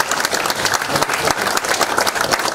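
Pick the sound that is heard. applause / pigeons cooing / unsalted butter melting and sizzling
applause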